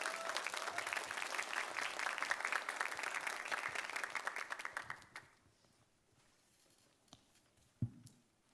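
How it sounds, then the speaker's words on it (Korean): A church congregation at a young adults' worship service applauds warmly for a pastor coming up, a dense, steady clapping that fades out after about five seconds, leaving a quiet room with a couple of small knocks. "이성은 목사님 나오실 때 우리 사랑과 축복의 박수를 함께 모시도록 하겠습니다."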